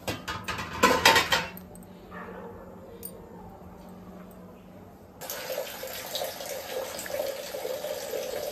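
Dishes clatter briefly, then a tap opens and water runs in a steady, close hiss until the end.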